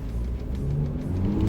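A GWM P Series pickup with 400 Nm of torque accelerates hard, its engine giving a close, loud, rising rumble and growl with no speech.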